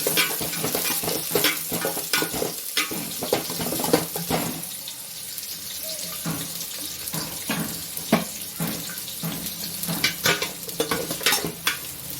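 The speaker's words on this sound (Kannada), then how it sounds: "ಫುಲ್ಲು ಬ್ರೌನ್ ಬೇಡ, ಸ್ವಲ್ಪ ಬ್ರೌನ್ ಬರೋವರೆಗೂ ಹುರ್ಕೊಳ್ಳಿ." Onions frying in a pan for Ambur dum biryani while they are stirred, with continuous loud sizzling and spitting, scraping strokes and clicks from the spoon, up close and without voices.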